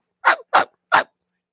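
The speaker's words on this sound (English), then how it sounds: "It sounds like a little dog." A dog barks three times in quick succession, each bark short and fairly loud, close by, with silence after.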